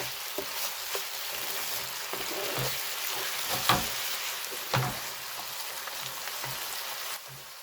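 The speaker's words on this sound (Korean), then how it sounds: "물과 간장을 섞으면서 볶습니다." Tofu and minced meat stir-fried over high heat with water and soy sauce, a soft steady sizzle broken by intermittent scraping and clacking stirring strokes.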